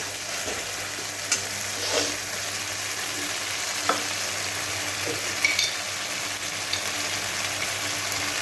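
Ginger, garlic, chilli and onion frying in a pan, a continuous close sizzle broken by occasional scraping and tapping stirs of a spatula, no speech.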